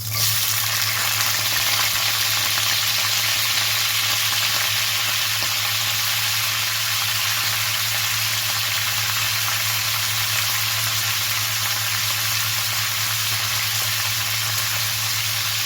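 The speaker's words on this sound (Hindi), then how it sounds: "इस तरह से इसे अच्छी तरह से फ्राई करनी है और इसे सॉफ्ट करनी है" Peeled drumstick (sajina) pieces fry in hot oil with a dense, even sizzle and crackle that holds at a steady level for the whole stretch, with no voices.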